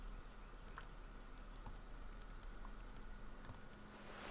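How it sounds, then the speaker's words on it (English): Rain in Disco Elysium, a faint, steady hiss of falling drops with scattered light patters, continuous and soft with no voices. "It's raining."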